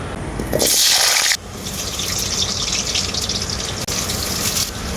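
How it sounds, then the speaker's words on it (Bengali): Cut potatoes hit hot mustard oil in a wok with a loud, hissing burst, then settle into a steady, close sizzle with no talking. "তো আলুগুলো আমি এখন ভেজে নেব"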